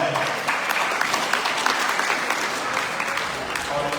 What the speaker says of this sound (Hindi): पर इससे पहले हम एक जोरदार ताली देंगे इस संकट मोचन मंदिर